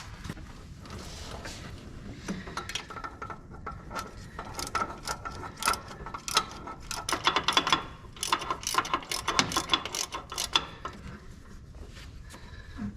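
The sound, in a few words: tightening Ford 5.4 exhaust manifold bolts with a ratchet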